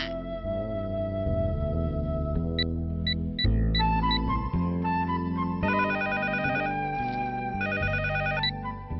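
A phone rings with a melodic electronic ringtone that plays continuously, clear and close, with no voices.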